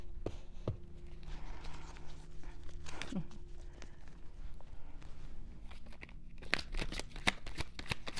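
Tarot cards being shuffled for a Pisces reading, a soft papery riffling and shuffling with scattered sharp taps and brushes, close and fairly quiet, with no talk over it.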